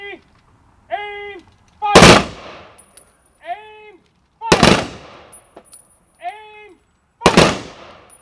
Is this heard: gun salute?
yes